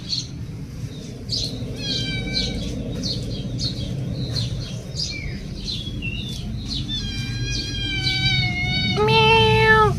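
A cat meows over and over at a village home, with chirpy calls early on that grow into longer, louder meows near the end above a steady low background hum.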